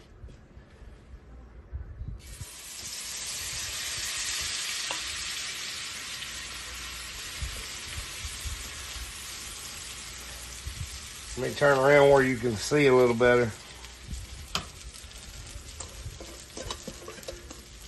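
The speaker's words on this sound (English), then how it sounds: "I want you to hear this batter going in." Buttermilk batter hits a hot frying pan and sets off a loud, steady sizzle that runs throughout, with a person briefly talking over it partway through.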